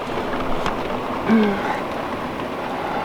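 Rain falls steadily outside a tiny house during a drought, a soft continuous hiss of drops that stays even and fairly close throughout, with no talking.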